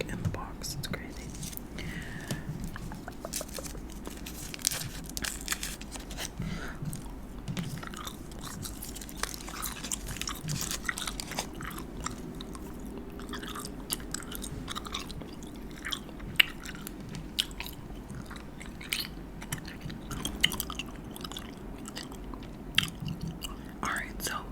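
Gum chewing, peppermint gum pulled from a box, gives soft wet smacks and crunchy mouth clicks close to the microphone, running continuously under quiet whispered talk.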